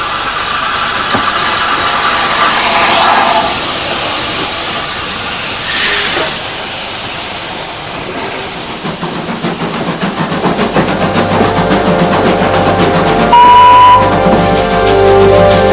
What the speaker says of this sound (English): I love the power and the noise of the engine.